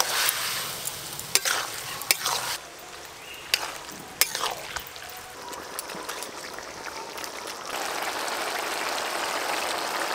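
Boiled bottle gourd and shrimp stir-frying with chopped tomato in a pan, a steady sizzle under repeated scraping and clacking strokes of a spatula, close and fairly loud, with no talking.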